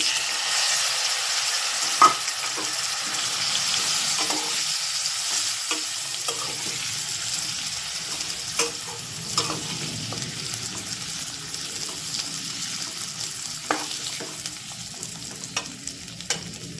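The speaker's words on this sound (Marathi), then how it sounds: "त्यानंतर माठ टाकून घ्यायचे." Red amaranth greens are tipped into a hot pan and stirred while frying, giving a soft continuous sizzle broken by repeated scraping and clinking of a spoon against the pan.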